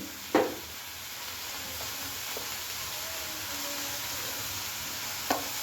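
Peas fry in a pan for mutter paneer, giving a steady, even sizzle throughout, broken by a few brief clinks of stirring.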